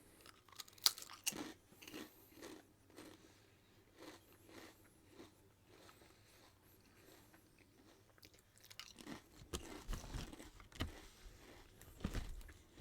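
Hawaiian Big Waves potato chips crunched and chewed close to the mic, irregular bursts of crisp crunching separated by quieter chewing, growing busier toward the end, with no talk.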